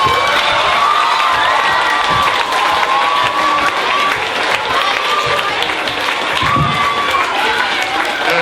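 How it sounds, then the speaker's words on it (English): Pupils at a KS2 interschool poetry showcase applaud and cheer steadily, a dense wash of clapping, shouts and children's whoops filling the hall, loud and sustained throughout with no pause. "Can you give all the pupils a round of applause"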